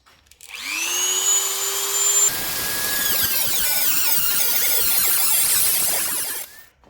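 A power tool whines up, then bites into metal stock being cut for lock pick handles, giving a loud, continuous high grinding screech that holds for several seconds before stopping, with no speech.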